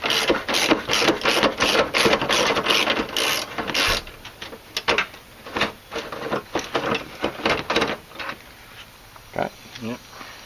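A ratchet with a long socket loosens a 10mm bolt on the headlight mount of a 2001-2005 Honda, giving rapid, close, rhythmic clicking that slows and breaks into shorter bursts of clicks.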